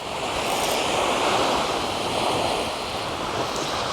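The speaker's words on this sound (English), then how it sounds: "That wind's definitely picked up though, it's blowing straight in my face now." Strong onshore wind buffets the microphone on a beach during a flatfish fishing session, with a steady roar of surf and gusts blowing continuously and loudly throughout, with no voices.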